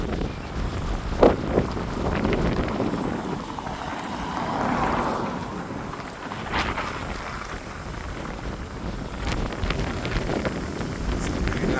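Steady wind buffets the microphone with a rumbling rush, and faint engine or vehicle noise sits underneath.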